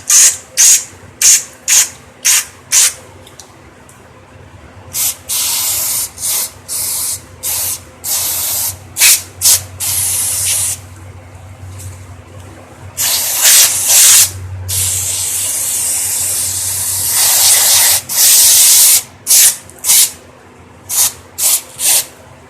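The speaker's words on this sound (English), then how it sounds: "Make sure you got it sprayed out real well." Cleaner sprays in repeated short hissing bursts into the carburetor orifices of a Craftsman lawn mower, model 917388113, followed by several longer sustained sprays, loud and close, with no talking.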